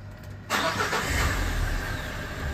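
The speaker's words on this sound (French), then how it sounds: "Ça démarre parfaitement, alors que la batterie est morte." A car whose battery is dead, given a jump-start boost, cranks briefly and catches at once, settling into a steady, loud, close idle rumble after the start.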